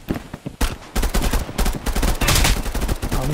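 Rapid gunfire from the Contractors Showdown VR shooter on Meta Quest 3: dense bursts of shots crackle loud and close, nearly continuous for a few seconds after a couple of sharp opening cracks, with no talking.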